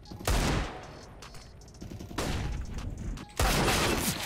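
A Desert Eagle pistol fires three sharp, loud shots in a CS:GO match, spaced about a second apart, each cracking suddenly and then decaying.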